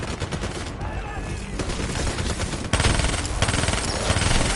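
Sustained automatic gunfire from the Call of Duty 3 video game, loud and close, with dense overlapping bursts that surge even heavier partway through, no talking over it.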